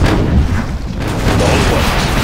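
Cannon artillery fire from C&C Generals (Contra mod) battle, a dense continuous barrage of booms and bursts with no clear gaps, loud and layered over a busy battlefield din.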